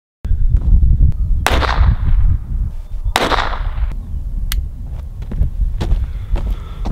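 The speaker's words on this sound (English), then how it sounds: "Let's send a few 22 shorts into it at least." .22 short rounds fired at a bulletproof backpack, a few sharp, loud cracks spaced seconds apart over low outdoor rumble, with two standing out strongly and fainter pops between.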